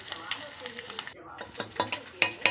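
Tempering with red chilli and turmeric in hot oil for Marathi varan, giving a brief crackling sizzle broken by sharp clicks and spits, close and moderately loud.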